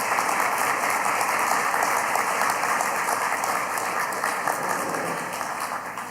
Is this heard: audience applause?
yes